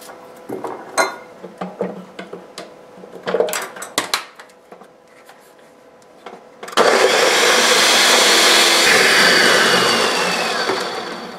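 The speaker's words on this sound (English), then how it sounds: "You do need a blender or a food processor though. This has to be blended." Scattered clinks and clatter, then a blender kicks on and roars loudly and steadily for several seconds, blending an Easter Jello mixture.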